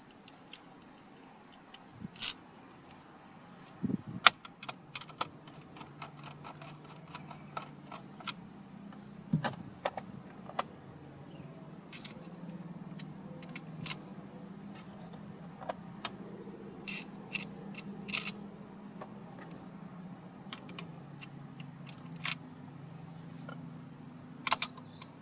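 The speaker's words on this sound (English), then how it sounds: "Now we'll just replace the 4 Phillips screws we took out." Phillips screws being driven back in while a navigation module is fitted into a 2015 Ford Mustang, heard as close, irregular small ticks and clicks of a screwdriver and parts, quiet between sharp taps, with a faint steady whine behind.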